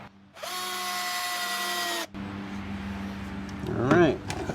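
A power drill drives screws into a cleaning table build, whining steadily for about two seconds before cutting off, then a lower rumble and a brief rising mechanical whir; no voices.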